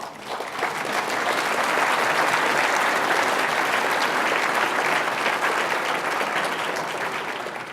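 An audience at a real estate panel event breaks into applause, a dense wash of clapping that swells quickly, holds steady for several seconds and slowly tapers off.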